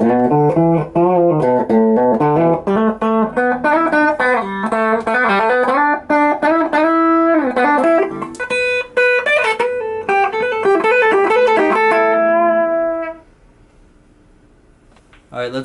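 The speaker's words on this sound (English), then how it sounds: "So now with the humbucker and a little bit of clean crunch." Electric guitar with a humbucker pickup played through a Marshall Valvestate 80V amp on a clean crunch setting, loud strummed chords and riffs ringing continuously for about thirteen seconds before fading to near silence.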